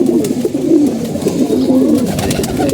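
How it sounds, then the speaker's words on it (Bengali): Pigeons coo continuously in a loft, a close, low burbling chorus of overlapping calls with faint scuffling in the background and no speech. "এই যে কবুতরগুলো আসছে এখানে কবুতর বেশি হয়ে গেছে"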